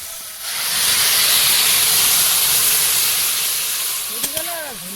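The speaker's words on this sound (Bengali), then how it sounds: "এবারে জল দেবো" Water poured into a hot cooking pan bursts into a loud, sustained hissing of steam that slowly fades, with a short voice or chirp breaking in near the end.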